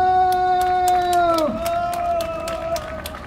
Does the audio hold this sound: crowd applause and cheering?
yes